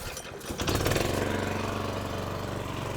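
A Toro Flex 21 lawn mower engine starts after a brief pull and catches within a second, then settles into a loud, steady, close running drone with no voices.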